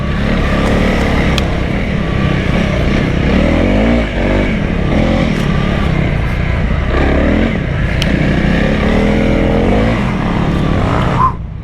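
A 2025 Honda CRF300L trail motorcycle ridden off-road enduro-style, its single-cylinder engine droning loudly and steadily throughout with repeated revving swells, ending in a brief drop.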